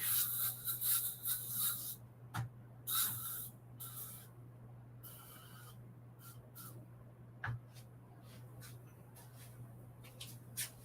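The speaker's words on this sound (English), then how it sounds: "I will go spray it, wipe it down, come back, and show you why I love my foam spray." Foam cleaner hisses from a spray bottle in several short bursts, followed by quieter wiping and rubbing sounds, all close and fairly faint.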